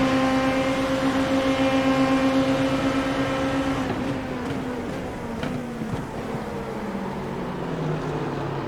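Race car engine in a racing video game at Fuji, holding a loud steady drone before dropping through downshifts with pops as it brakes, continuous and close with no talk.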